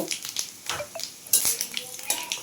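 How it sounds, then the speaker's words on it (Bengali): Dried chili and Bengali five-spice (panch phoron) frying in hot oil for a village-style pumpkin-greens dish, a close, steady crackle and sizzle broken by sharp spitting pops and a scrape of a utensil. "আমি দিয়ে দিলাম লঙ্কা আর পাঁচ ফোড়ন তেলের মধ্যে"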